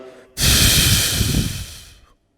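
A single long, loud exhale during a back exercise toe touch, close and breathy, rushing out for nearly two seconds before fading to silence.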